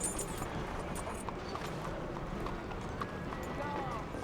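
Horse galloping in Red Dead Redemption 2, a steady run of hoofbeats with game ambience and wind, continuous at moderate loudness throughout.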